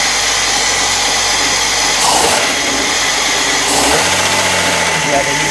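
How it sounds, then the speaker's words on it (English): A Ford 200 2V inline-six idles loudly up close with a steady drone, lifters ticking while they pump up, and a couple of brief swells in engine noise. "The lifters will make a little bit of noise for a little bit."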